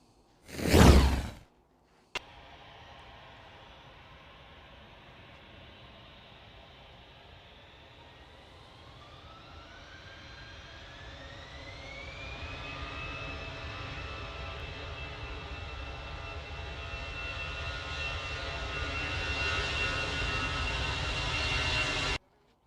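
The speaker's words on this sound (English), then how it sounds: "Might as well watch the DHL arrive again." A DHL cargo plane arrives at Manchester Airport, its engine roar and whine building steadily from a distant hum to a louder, sustained rush with a rising tone, after a brief thump at the start.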